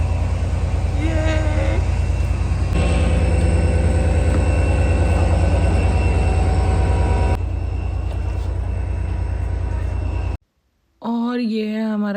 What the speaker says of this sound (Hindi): फाइनली हमारी ट्रेन कम से कम लगी हुई है यहाँ पे